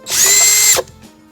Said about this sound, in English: You can put a 10mm at the end and start drilling everything out.